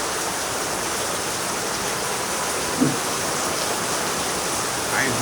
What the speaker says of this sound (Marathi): पाऊस काय कमी होत नाही